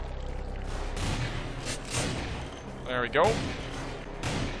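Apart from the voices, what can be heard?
gunfire from a video game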